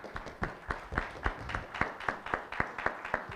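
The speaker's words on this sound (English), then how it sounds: "let's give our panelists another round of applause, please" Applause for panelists at a historic district celebration in South Benbow Park, heard as a steady, evenly spaced run of fairly faint, distant claps with no talking.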